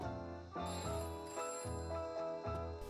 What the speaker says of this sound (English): Oh, there's the phone, okay.